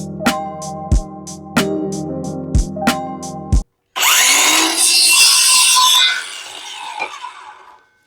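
Wood being cut to length with a saw: a run of sharp, evenly spaced knocks and strokes, then after a brief gap a loud, dense rasping cut that carries on for several seconds before tapering off, with no talking.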